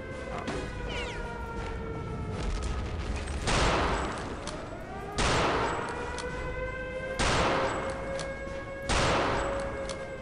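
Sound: MG42 machine gun firing in Return to Castle Wolfenstein video game

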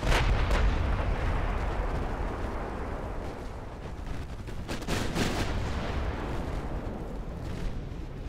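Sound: torpedo hit explosion on a warship in video game Ultimate Admiral Dreadnoughts

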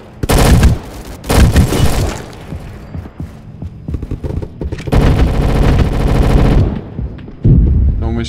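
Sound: gunfire in a video game

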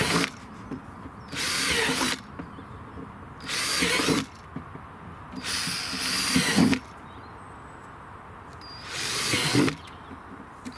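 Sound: drilling drainage holes freehand

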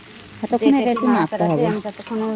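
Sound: stirring pasta with egg frying in a pan

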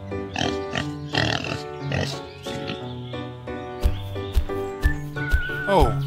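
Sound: pig with piglets

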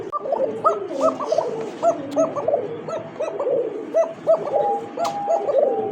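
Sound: pigeons cooing

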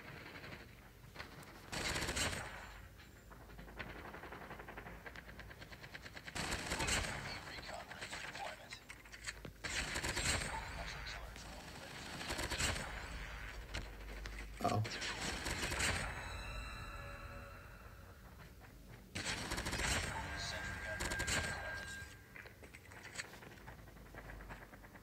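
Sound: MSMC gun firing in video game Call of Duty Mobile

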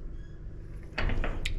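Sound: electric gate opener ram moving

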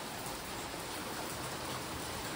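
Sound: rain falling

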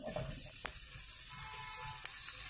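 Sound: potatoes frying in a pan

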